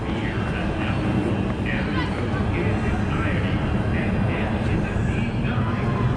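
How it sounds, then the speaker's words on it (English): An airplane passes over Thorpe Park during the Fright Nights event, a steady, broad engine rumble that fills the background while people talk over it. "There's a plane coming over as well."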